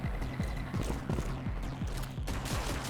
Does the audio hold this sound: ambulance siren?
no